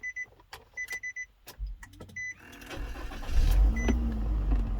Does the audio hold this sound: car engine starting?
yes